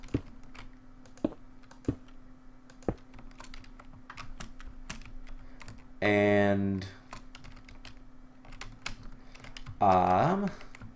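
Rapid clicks of computer keyboard typing, sparse and sharp, tapping along quietly at close range, with two short bursts of speech in between.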